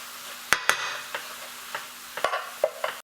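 Spice mix stirred into pre-cooked dhal and mushrooms in an oiled pan for a restaurant-style mushroom dansak. A soft, low sizzle runs underneath sharp spatula scrapes and knocks that come at irregular intervals.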